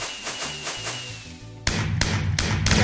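Fireworks in the Minecraft video game set off a run of repeated sharp thumps and pops, irregularly spaced, growing louder and denser with crackling bursts in the second half.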